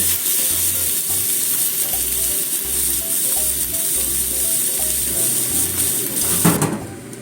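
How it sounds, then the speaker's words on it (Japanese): Butterbur (fuki) stir-fried over high heat at about 180 degrees, with a steady close sizzle of frying and the rhythmic scrape and knock of stirring throughout, and no voices. "強火で炒めますね。"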